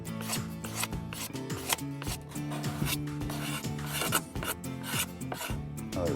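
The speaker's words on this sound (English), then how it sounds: "pick up a plane blade like this and just very aggressively just scrape it right off" A steel plane blade scraping old varnish off wood after heat-gun stripping: rapid, aggressive rasping strokes in a steady back-and-forth rhythm, close and fairly loud, with no talk.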